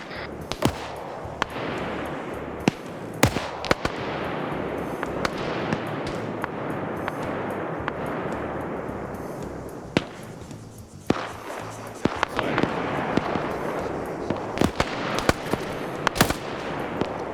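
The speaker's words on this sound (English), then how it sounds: "I hear guns." Sustained gunfire in a military video game: rapid bursts and scattered single cracks over a steady roar of battle noise, some shots close and loud, others distant, continuing throughout.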